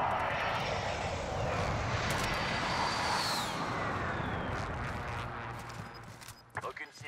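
Airstrike aircraft in Call of Duty Warzone, a loud sustained engine roar sweeping overhead with a passing whoosh, fading over several seconds as it moves away, with gunfire-like crackles near the end.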